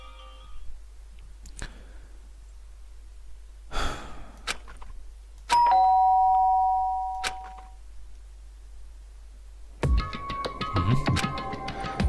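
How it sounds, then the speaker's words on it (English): Inside the Danganronpa video game, a doorbell chimes with two clear bright tones after a stretch of quiet sighs and soft effects, then a busier burst of game music and sound follows. "did I hear the doorbell?"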